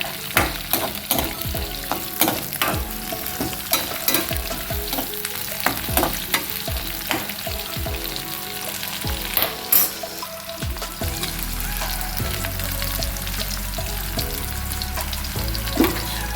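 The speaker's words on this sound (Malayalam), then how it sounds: "ഇതെല്ലാം കൂടെ നമുക്ക് വെളിച്ചെണ്ണയിൽ കിടന്ന് നന്നായിട്ടൊന്ന് വഴറ്റിയെടുക്കണം" Vegetables sautéing in coconut oil as they are stirred in a pan for a spicy fish curry: a continuous loud sizzle with rapid, irregular scraping and clattering strokes of a spatula, close up, with no talk.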